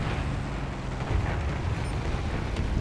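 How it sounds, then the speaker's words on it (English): Aircraft cannon fire in War Thunder, a heavy, dense low-end pounding under constant engine roar, loud and close with no talk. "Quite powerful cannon."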